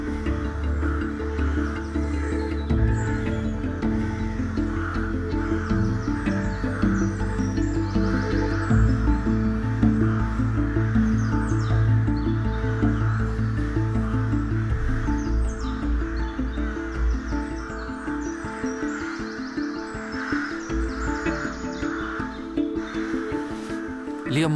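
Rooks caw on and off across a breeding colony, harsh calls and chirps layered over a steady background, with a voice talking over much of it.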